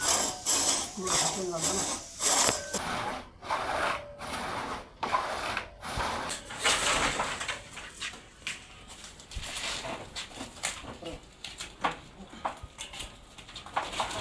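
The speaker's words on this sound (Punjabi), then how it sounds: "ਅੰਕਲ ਜੀ ਹੁਣਾਂ ਨੇ ਹੁਣ ਇਹਨਾਂ ਦੇ ਛੋਟੇ ਛੋਟੇ ਪੀਸ ਕੱਟਨੇ ਸ਼ੁਰੂ ਕਰਤੇ ਨੇ" A hand saw rasps rhythmically through neem tree wood to cut it into small pieces, strokes close and repeated in quick bursts, with faint background noise between them.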